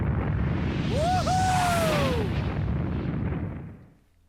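The boss Bat dies in a fiery explosion in the game Digital Devil Saga, a loud, sustained roaring blast with a swooping whine that rises and falls inside it, then fades out near the end.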